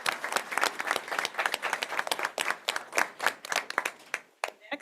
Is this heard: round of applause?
yes